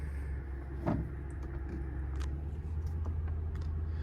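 2012 Lexus LS600hl hybrid sedan driving, a low steady cabin rumble and road hum with a few faint clicks and knocks, quiet and even throughout, no talking.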